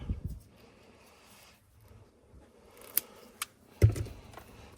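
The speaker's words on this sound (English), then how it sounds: "might need another snip the other way" Cutters snip a rubber seal during a front and rear camera kit install on a 2024 Toyota LandCruiser 70 Series. Two or three short, crisp clicks sound close by in an otherwise quiet space, with faint handling noise around them.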